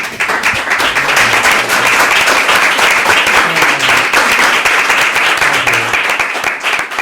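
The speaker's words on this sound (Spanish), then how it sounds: "Bueno, pues un aplauso para vosotros." Warm, steady audience applause with crisp individual claps audible within the crowd, holding strong for several seconds before easing slightly at the end, close and lively.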